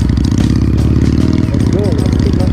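A Yamaha motorcycle engine running nearby on a ride toward Lipa, a rough throbbing idle with steady pulsing rhythm, heard beneath someone talking over it.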